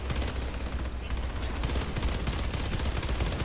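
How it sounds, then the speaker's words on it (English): Sustained rapid gunfire in the sci-fi shooter video game Starhawk, a dense, loud barrage of overlapping shots running continuously without pause. "I was just shooting into the wall"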